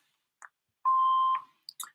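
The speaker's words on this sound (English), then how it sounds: "Please leave your name and phone number after the beep." A single steady answering machine voicemail beep, a clean pure tone lasting about half a second, loud and close in near silence, with faint clicks before and after.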